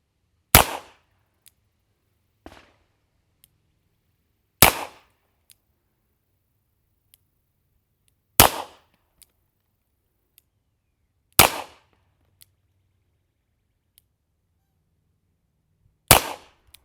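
S&W Model 14 revolver fired one-handed double action at a silhouette target from 7 yards, loud sharp shots spaced a few seconds apart, with a fainter report or echo between some of them.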